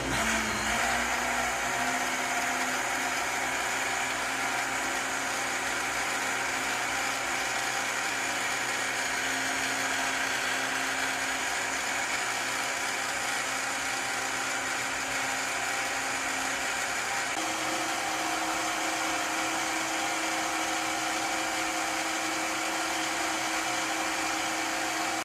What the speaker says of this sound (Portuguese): Agora é só bater 2 minutos em velocidade máxima para misturar